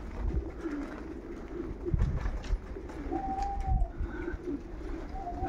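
Pigeons coo repeatedly near a pigeon loft, soft low calls overlapping with a few higher bird notes, steady outdoor ambience throughout.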